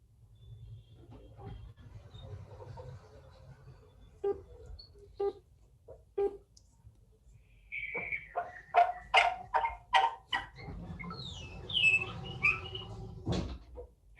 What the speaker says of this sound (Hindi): कुत्ते की आवाज कहाँ से आ गई?